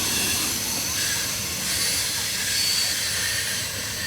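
A BNSF mixed freight manifest train rolls past at Carkeek Park in Seattle, a loud, steady broadband roar of wheels and cars close by with no break across the whole stretch.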